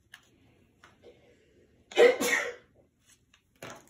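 A mother sneezes once, a loud, close burst amid the quiet rustle of unboxing a Magic Mixies toy, with soft clicks and handling noises before and after.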